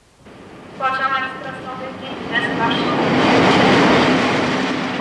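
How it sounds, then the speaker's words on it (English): A train from Warsaw pulls into Tarnów in southern Poland, wheels rumbling and clattering on the rails as the loud, steady noise builds, with a brief squeal and voices talking underneath. "On this train from Warsaw, arriving in the southern Polish city of Tarnów"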